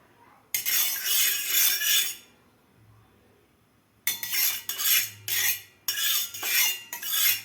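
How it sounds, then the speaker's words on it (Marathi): Oil spread across a hot iron tava before thalipeeth goes on, giving close, harsh scraping sizzle in one long stroke, then a pause and several shorter bursts in quick succession, with no talking. "यावर थोडंसं आपल्याला तेल लावून घ्यायचं आहे तव्याला"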